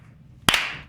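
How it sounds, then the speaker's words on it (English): One sharp, close hand clap rings out alone against a quiet background, followed by a short fading decay. "Not a slow clap, a single clap."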